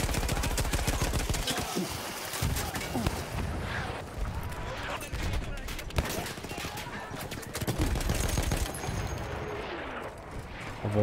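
Dense gunfire and explosions fill a Battlefield 1 World War I combat scene near a church, rapid shots and bursts crackling continuously and loudly with a flamethrower soldier close by, and no clear talk over the battle.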